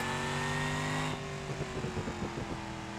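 A boosted race car engine in BeamNG.drive revving hard and loud, a steady high-pitched whine that breaks into a choppy, stuttering rev with popping pulses partway through.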